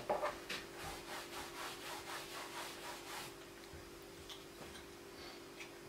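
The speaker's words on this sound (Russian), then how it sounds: "Давайте уже расчистим палитру под розовый." Painting palette being cleared and scraped ahead of mixing pink oil paint, a steady series of rhythmic rasping scrape strokes over the first few seconds, then fainter, sparser scratches and taps, close and moderately quiet, no talking.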